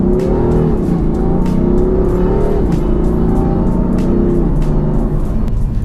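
Modified BMW M4 engine revving with its exhaust valve closed, a loud, steady, close-up engine note rising and falling through several moderate revs with no talking.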